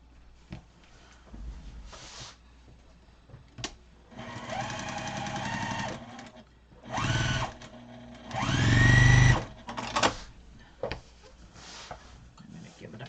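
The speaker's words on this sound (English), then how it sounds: "We're going to sew it here." A sewing machine stitches fabric mat pieces in several separate bursts, the runs lengthening and growing louder, with quiet handling noises between them, close by.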